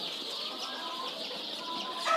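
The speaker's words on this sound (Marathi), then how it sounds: "हे कावेरी जातीचे पक्षी आहेत" Kaveri breed chickens cluck on a poultry farm, a continuous mix of several hens' soft clucks and calls at moderate volume, with a sharper call rising at the very end; no speech.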